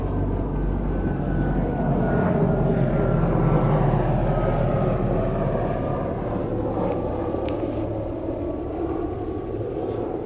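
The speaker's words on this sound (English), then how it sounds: "The black helicopter, it's just gone over" A black helicopter passes overhead, producing a steady, loud, broadband rotor and engine rumble that holds for about ten seconds with no talking.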